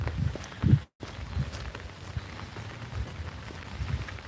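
Steady rain falls outdoors on an overcast day, a continuous soft patter on surfaces with low rumbling in the background and a brief gap near the start.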